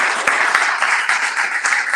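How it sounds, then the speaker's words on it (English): Seminar audience applauding a doctor, dense steady clapping from many hands filling the room, with a few sharper individual claps standing out. "Please, can you give a hand to Dr."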